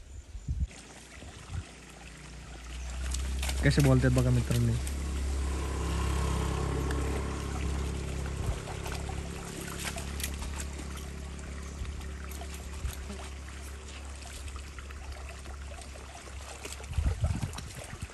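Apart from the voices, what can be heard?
water flowing in an irrigation channel by rice fields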